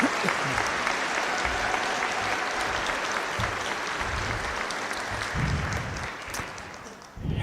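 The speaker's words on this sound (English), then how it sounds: "we start the day by giving our graduates a big round of applause." Big round of applause from a crowd at the Lone Peak High School 2025 graduation, steady at first, then thinning with scattered claps and a closing burst.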